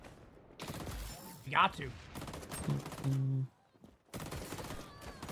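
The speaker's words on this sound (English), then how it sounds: "I'm literally just standing still shooting at them, and they're dying" Rapid gunfire from the shooter game XDefiant comes in short bursts, mostly under someone talking over game sounds.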